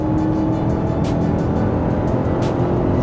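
A Chery Tiggo 8 Pro SUV accelerates hard in normal mode, heard from inside as a steady, loud engine and road drone with a continuous whoosh and no talking.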